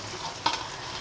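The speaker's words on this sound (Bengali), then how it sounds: "এগুলো এবার এখানে দিয়ে দেবো, একটু ভেজে নেবো।" Spring onion and capsicum sizzle in a hot pan for hakka chow mein, a short burst of crackling frying with a single stirring clack in the middle.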